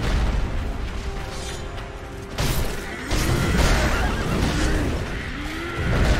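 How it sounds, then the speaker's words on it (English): Armored horse whinnying during a battle in Sekiro: Shadows Die Twice, several rising and falling neighs over booming combat impacts and a dense rumbling game soundscape, loud and near. "Horse also attacking me."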